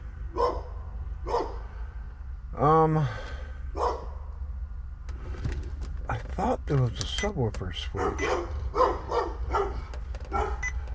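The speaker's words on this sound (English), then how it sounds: "Dogs are going nuts." Dogs bark in short bursts at a distance, one letting out a drawn-out howl-like bark, while someone talks nearby over a low rumbling hum from an under-seat subwoofer.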